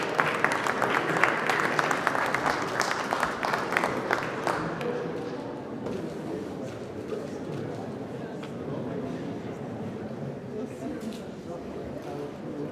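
Audience applause at a French national architecture day event, dense clapping for the first few seconds that thins and fades into crowd murmur and chatter.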